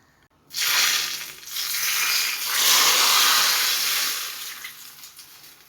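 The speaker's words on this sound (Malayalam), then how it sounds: "നല്ലെണ്ണ ചൂടായി വന്നിട്ടുണ്ട് ഇനി നമുക്ക് അത് ഇതിലേക്ക് ചേർത്ത് കൊടുക്കാം" Hot sesame oil is poured into a mixed pickle made without chili powder and erupts into a loud, bright sizzle right after a quiet start. The hiss swells and holds for several seconds, then fades gradually.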